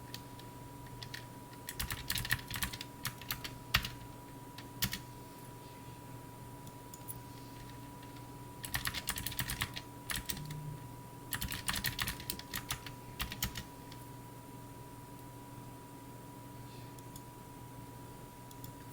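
Someone types an address on a computer keyboard, with quick bursts of clicking keystrokes separated by pauses, close but fairly quiet over a steady electrical hum.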